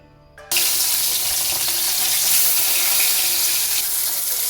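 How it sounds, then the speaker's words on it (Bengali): Tengra fish, salted and coated in turmeric, dropped into hot oil for a fish-and-potato curry, giving a sudden loud, steady hiss and crackle that starts abruptly after a brief quiet moment and holds evenly throughout. "তেল ভালো করে গরম হয়ে এলে এবার মাছগুলো দিয়ে দিচ্ছি।"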